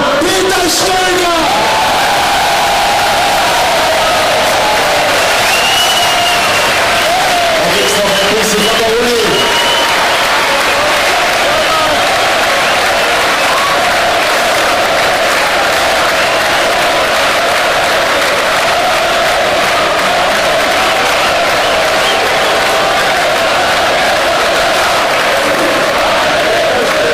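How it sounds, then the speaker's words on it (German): A large crowd at the FK Austria Wien 2013 championship celebration applauds and cheers the title-winning football coach, with dense, sustained clapping and shouts that stay loud throughout, plus brief calls rising above the roar early on. "Das ist der Applaus für unseren Peter Stöger!"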